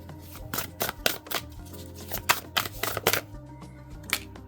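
An oracle card deck being shuffled, with repeated quick riffling snaps in bursts, close and fairly loud, ending as a single card is drawn.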